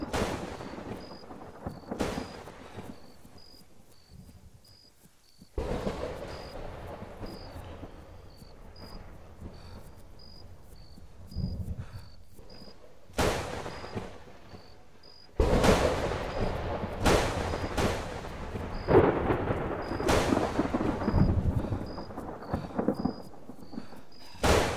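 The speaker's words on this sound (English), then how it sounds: "At least the rain lit up a little bit." Rain and thunder in the military shooter Arma 3, heard as a steady rain wash with several loud, sharp thunder cracks and rumbles that grow heavier and more frequent toward the end.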